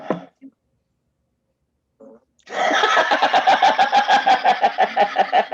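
A loud comedic fart sound effect from a Ghostbusters (2016) movie scene: a short squeak, silence, then a long rasping, sputtering fart with rapid pulsing flutter, close and prominent.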